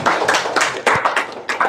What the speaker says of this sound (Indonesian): Tepuk tangan buat Mas Yudi